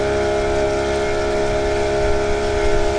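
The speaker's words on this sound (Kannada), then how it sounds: "ಇದು ಬಂದು ಮೋಟರ್ ಬೋಟ್" Motor boat on the lake at the Ooty boat house, a loud, steady droning engine with sustained tonal whine and low rumble, continuous and near, no voices.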